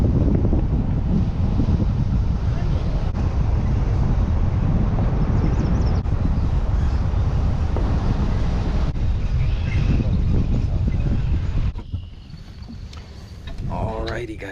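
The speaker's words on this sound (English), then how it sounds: "It's a little windy today" Strong wind buffets the microphone at a lake during a kayak fishing trip, a loud continuous rumbling roar that persists for most of the clip before easing near the end.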